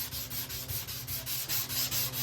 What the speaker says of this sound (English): we're going to sand it all the way up to it like this